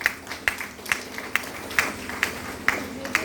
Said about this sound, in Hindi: एक बार हम चाहेंगे हमारे इस कपल साथियों के लिए एक बार शानदार ताली हो जाए साहब